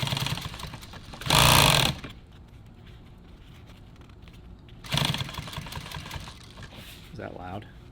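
Loud industrial sewing machine stitching nylon tactical gear, two bursts of rapid, harsh needle hammering, the first intense and close, with people talking in the quieter stretches between.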